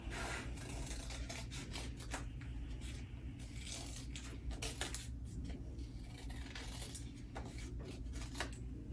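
Scissors snip steadily through paper while cutting out a paper dragon's tail, making a close, continuous rustling crunch broken by quick sharp cuts, with no voices.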